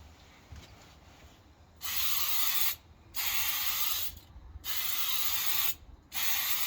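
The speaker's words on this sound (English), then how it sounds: "Make sure to at least hold the spray can 30 centimeters away." Spray paint can hissing onto a car panel of a Golf 1 hatchback, four steady bursts of about a second each separated by short pauses, close and fairly loud over quiet room noise.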